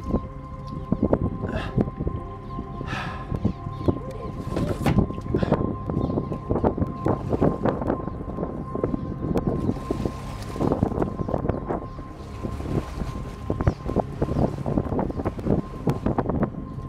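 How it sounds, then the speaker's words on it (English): Wind buffets a fishing boat on open water in hot weather, a constant rumbling roar of gusts hitting the microphone with engine and hull noise beneath, loud and unbroken throughout. "Deal with the damn wind!"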